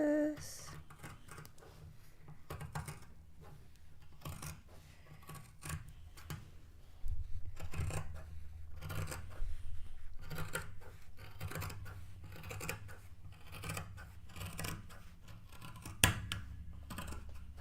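A paper pattern piece is cut with scissors, making a close, steady series of crisp snipping and rustling sounds, with no voices heard.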